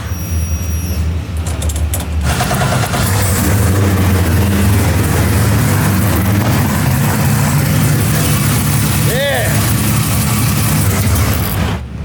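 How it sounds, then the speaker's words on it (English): A car engine on E85 fuel, cold-started after sitting for about a month, rumbles loudly and continuously at close range, revving unevenly with a brief higher whine partway through. "Cold start on E85 after it's been sitting for like a month"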